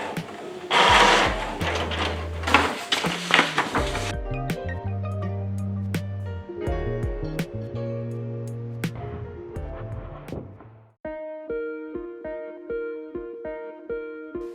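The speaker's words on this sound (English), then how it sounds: "by printing the nozzle check, the firmware and counter information is printed as well." A Canon MAXIFY GX7000 inkjet printer runs a nozzle check print, with motors whirring and stepping in changing pitched patterns, paper feed clatter at the start, and rhythmic carriage passes heard close and alone.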